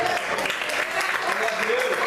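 A church congregation claps during an evening service, a dense, even patter of applause with a voice faintly present beneath it.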